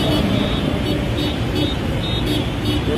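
Motorcycles and other vehicles rolling in a political caravan along EDSA, a steady dense wash of engine and road noise close by, continuous for the whole stretch with no distinct horn blasts.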